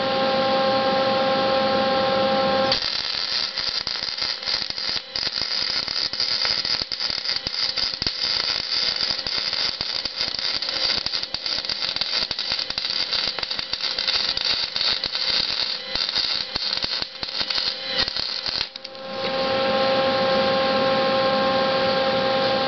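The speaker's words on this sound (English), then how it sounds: "And we're welded up on our fillet weld." Arc welding on a fillet weld gives a steady, crackling buzz that runs close and loud for most of the stretch under a constant electrical hum, which continues alone before and after the weld.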